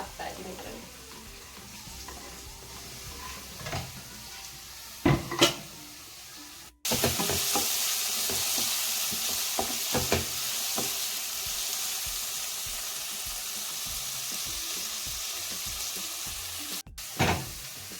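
Bell pepper fried rice with mixed vegetables sizzles steadily in a pan while a spoon stirs and scrapes through it, with a few sharper clanks against the pan.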